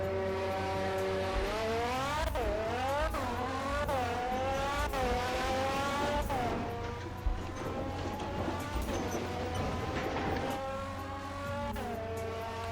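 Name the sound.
BMW car engine driving in a Roblox video game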